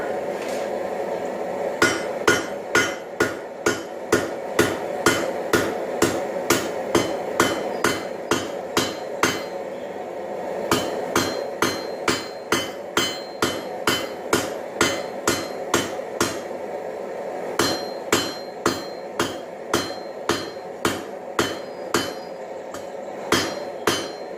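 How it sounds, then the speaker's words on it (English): Mild steel is hammer-forged into a taper for making tongs, a three-pound hammer striking the anvil in steady, closely spaced ringing blows with brief pauses between runs, loud and near, no talking. "right now I'm just drawing a taper down so it'll fit through the hole"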